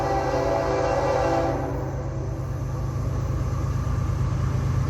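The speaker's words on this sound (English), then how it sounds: "I heard the train." A Florida East Coast rock train rumbles past close by, a loud, steady roar of wheels and wagons with a horn-like tone early on. No talking.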